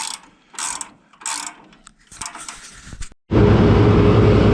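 Bursts of clattering, ratcheting machinery start and stop, then a loud, dense, continuous mechanical roar as a repaired chaff cutter, with replaced bearings and balanced knives, runs steadily.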